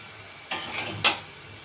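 A spoon scrapes twice through thick chilli chicken gravy in a hot pan, each stroke a short gritty swish over a quiet, low sizzle, close and clear with a pause between.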